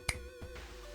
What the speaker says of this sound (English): When you hear me snap my fingers, I'm thinking